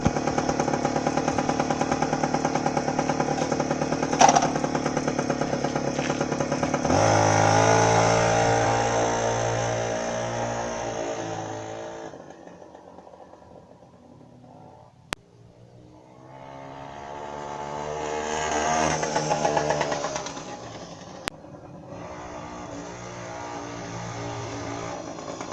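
A Manet Korado / Puch TX-1 motorcycle revs with a high, screaming two-stroke-style whine, rising and falling through several throttle sweeps with a brief drop to near idle, loud and close.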